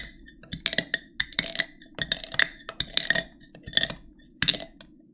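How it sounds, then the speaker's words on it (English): Ingredients are muddled in a glass, producing a series of sharp, irregular squeaky bursts and clinks, close and fairly loud, with brief pauses between strokes. "I've never muddled something that sounded like that before."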